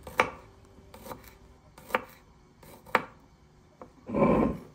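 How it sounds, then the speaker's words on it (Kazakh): Five or six garlic cloves chopped with a knife on a board, several separate sharp thuds spaced about a second apart, close and clear, ending in a brief rough scraping sweep. "Бес-алты тіс жет чесногымызды турап аламыз."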